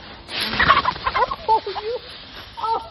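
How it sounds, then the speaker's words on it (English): A backyard garden chicken clucks in short broken bursts, close by, mixed with rustling and a faint voice in the background. "Come on, chicken."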